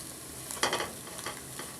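A noodle mixture is stirred in a pan, with a quiet sizzle and a few soft scraping strokes clustered in the middle of the clip, no speech.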